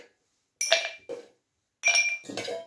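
Ice cubes dropped into a highball glass for a Bourbon Swizzle, giving a few bright, close glassy clinks in separate bursts with quiet gaps between them.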